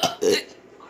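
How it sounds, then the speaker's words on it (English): A loud, voiced belch from a contestant in a home burping contest, two close bursts in about half a second, trailing into quiet room noise. "you were burping a lot."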